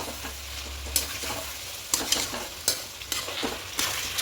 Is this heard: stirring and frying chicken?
yes